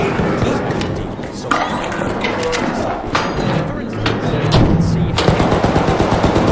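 Gunfire in the video game Arc Raiders: dense bursts of automatic fire and sharp shots keep crackling through the scene, loud and close, with players talking excitedly over it.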